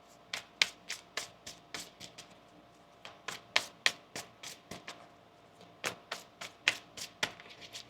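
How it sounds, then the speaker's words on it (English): Tarot cards being shuffled by hand, a run of sharp crisp slaps and riffles in uneven bursts, close and quiet with short pauses between. "Let's get one more shuffle here for you."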